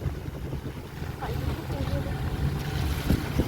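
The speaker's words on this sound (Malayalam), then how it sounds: "ഗൈസ്, ഭയങ്കര ഒച്ച കടലിൻ്റെ." Loud sea waves roaring at a beach, a continuous heavy wash of surf with wind buffeting the microphone, steady and close throughout, with a voice talking over it.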